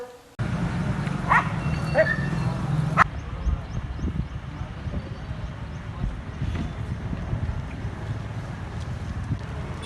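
A few stray dog barks ring out at a distance in a village amid gusty wind noise buffeting the microphone.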